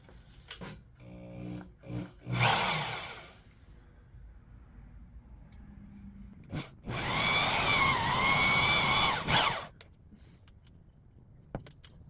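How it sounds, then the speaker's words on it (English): A power drill whirs in a short burst, then runs steadily for a few seconds at close range before stopping, with clicks and handling noise around it. "I wanted to run it off a drill"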